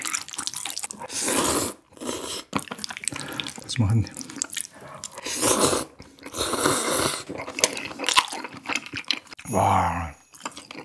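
Crunchy Chinese dishes such as dongpo pork, sweet and sour pork, dim sum and jajangmyeon being chewed close to the mic in a mukbang, with bursts of wet, crisp bites and slurps between brief pauses and some talk.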